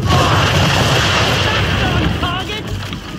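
Ship cannons firing in an Assassin's Creed III naval battle, producing a loud, dense rolling boom that fills the whole moment and slowly fades toward the end.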